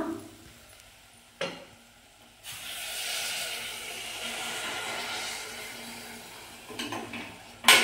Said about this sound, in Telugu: వాటర్ వేద్దాం.